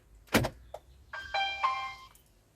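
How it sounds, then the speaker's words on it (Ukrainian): A parked car locking after the ignition is switched off: a sharp door-latch thunk, then a short electric whir and tonal beep-like hum from the locking mechanism, close and clear with no talk. "Я замикаю авто."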